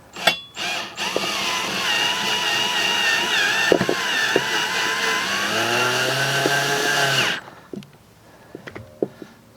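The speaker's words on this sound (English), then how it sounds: "And I'm putting it in with a self-tapping screw." A power driver spins a self-tapping screw into a small pilot hole in the main bar of a DIY rose pillar support, giving a loud, steady motor whine for several seconds that drops in pitch as it tightens, then stops.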